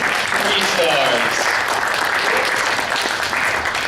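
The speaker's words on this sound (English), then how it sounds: "Give a quick round of applause for our 3 stars" An audience claps for three stars at an afternoon session, a steady burst of applause with voices talking over it.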